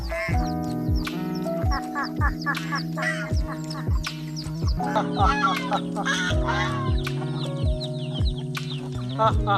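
Chickens cluck and other farm birds call on a goat and chicken farm over a steady rhythmic mechanical thumping, with a few honks mixed in throughout.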